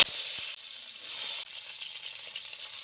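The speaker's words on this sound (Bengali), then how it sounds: "এবার উচ্ছেগুলো আমি দিয়ে দিলাম।" Chopped bitter gourd fries in hot mustard oil with a faint, continuous sizzle and light crackle after a brief clatter at the start.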